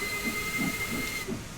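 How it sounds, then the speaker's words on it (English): The steam whistle of an LMS Class 6P steam locomotive in Train Sim World 4 on the Peak Forest Line. A sustained, steady whistle tone rides over a constant breathy steam hiss and then cuts off, with no talk. "So that's the steam whistle, because obviously they don't have the electric horns or air horns."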